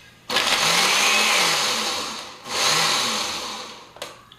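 A food processor whirs loudly as it chops green scallions for a raw veggie patty, running steadily for about two seconds, pausing briefly, then spinning up again before stopping.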